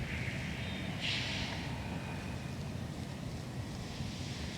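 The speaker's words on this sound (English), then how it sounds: "It's really windy." Steady wind buffeting the microphone outdoors at an RC plane flight (FMS Pitts 1400mm), a constant low rumble with a brief hiss, no voices.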